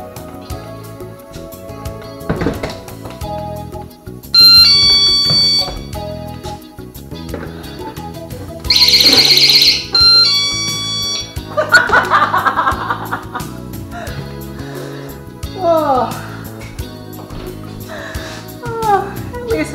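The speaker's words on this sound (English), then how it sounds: "We know that door alarm works." A loud, piercing electronic door alarm tone on a manufactured home's replacement door blares for about a second amid handling noises and brief bursts of laughter-like vocal sounds.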